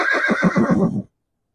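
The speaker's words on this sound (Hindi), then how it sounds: "इनके पास एक बहुत अच्छी घोड़ी है" A mare at a stud farm in Kurli village, Shirur taluka, Pune district, gives one loud, close whinny with a rapid quavering pulse that cuts off abruptly after about a second.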